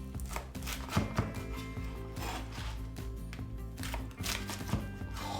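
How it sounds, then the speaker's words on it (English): A knife thuds repeatedly against a wooden chopping board, cutting a chicken quesadilla into pieces, a few sharp chops mixed with cutting and scraping, close by. "So I'm going to chop this up into 3 equal pieces"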